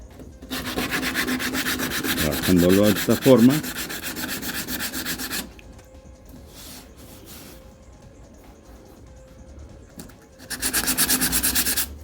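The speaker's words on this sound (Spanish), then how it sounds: "Le puede dar con el filo de la lija," Close, steady rasping of sandpaper rubbed back and forth on a car body panel, stopping briefly with a few words spoken, then resuming loudly.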